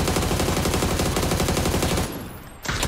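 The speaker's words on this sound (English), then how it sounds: "I'm shooting from far away." Sustained rapid automatic gunfire in PUBG, dense and loud for about two seconds, then a brief lull before another burst; no talking over it.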